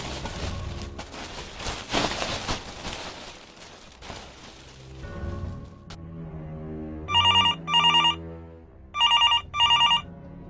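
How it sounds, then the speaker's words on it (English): A telephone bell rings in two loud double bursts near the end, following rain-like noise and a low musical drone. "At that one moment the phone rings."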